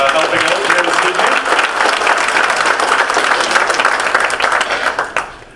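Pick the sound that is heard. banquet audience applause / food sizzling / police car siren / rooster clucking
banquet audience applause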